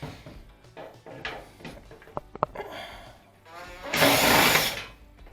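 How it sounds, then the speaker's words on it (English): A power drill spins out quarter-bit screws from the back panel of a Whirlpool Cabrio dryer, with a loud buzzing burst of just under a second following scattered handling knocks and a few short clicks. "remove the 6 quarter-bit screws in the back"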